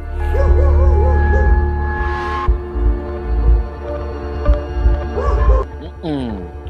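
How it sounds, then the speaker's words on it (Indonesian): A dog barks loudly at night, a few yapping bursts spread across the stretch, set against a steady electrical hum and scattered low thumps. "tiba-tiba terdengar suara gonggongan yang sangat keras gitu"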